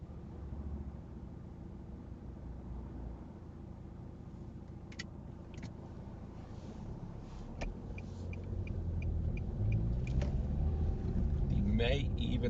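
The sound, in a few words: car driving off during driving test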